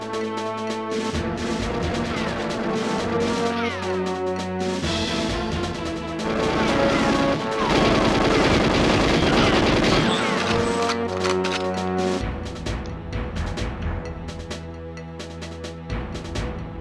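Gunfire crackles in the video game GoldenEye 007 over loud, dense game music, with rapid bursts of shots running through most of the stretch.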